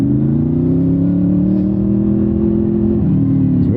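A Honda VFR800 motorcycle engine hums smoothly and loudly from up close while riding, its pitch rising gently then dipping near the end as the throttle changes.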